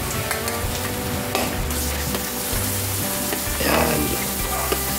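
Pork dropped into a pan with sautéed onion and garlic, frying in its own fat for dinuguan, a loud continuous sizzle with stirring scrapes and a surge of crackling near the end, close by.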